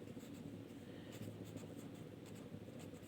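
Handwriting the chemical name 2-chloropropane during a chemistry lesson on isomerism: a continuous, soft scratching of strokes for about three seconds, close and unaccompanied by speech.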